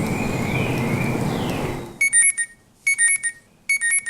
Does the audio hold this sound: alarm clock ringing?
yes